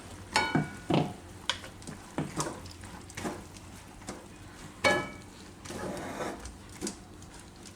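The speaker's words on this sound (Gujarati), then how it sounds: "તો હવે આપણે આમાં નાખી દઈશું આ કાજુનો પાવડર બધો અને મિક્સ કરી લેવું." Cashew powder is stirred into a pan of sugar syrup, with irregular soft scrapes, thuds and sticky clacks of a spoon against the pan over a faint sizzle, close and quiet, with no talking.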